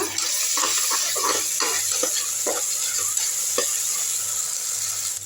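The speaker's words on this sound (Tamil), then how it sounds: "நல்லா வதக்கி விட்டுருங்க" Ginger garlic paste sautéing in a pressure cooker, a steady close sizzle with repeated scraping and stirring strokes of a spoon against the metal base throughout.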